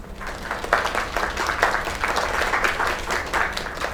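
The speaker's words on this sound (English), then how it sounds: "Another round of applause." Steady applause from an audience after a kid's singing performance, a dense wash of many hands clapping at an even level for the whole stretch.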